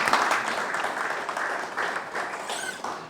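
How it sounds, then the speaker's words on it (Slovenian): Audience applause breaks out at a motivational talk after a song, broad continuous clapping filling the room for the whole stretch, steady and moderately loud with no voices over it. "Si pa zaploskamo lahko, ne?"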